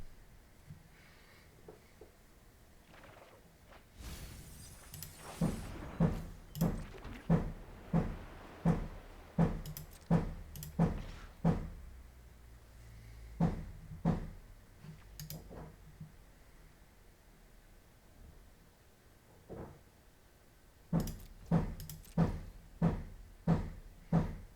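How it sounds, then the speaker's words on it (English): An upstairs neighbor hammers overhead, sending a long run of muffled, evenly spaced thuds through the ceiling, then a pause, then a second burst of regular knocks, with no talking heard. "That's like my upstairs neighbor using a hammer."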